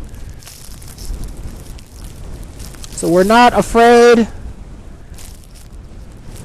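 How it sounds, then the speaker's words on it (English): Strong wind gusts in a snowstorm buffet the microphone with low rumbling bursts under and between a man's speech, swelling loudest mid-clip before easing. "Sorry, I'm getting a huge wind gust right now."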